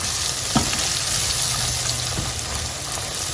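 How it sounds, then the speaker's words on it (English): Curry powder frying in hot oil, a loud, dense, continuous sizzle close up with a couple of brief stirring knocks, no voices. "go ahead and add my curry powder to infuse in the oil"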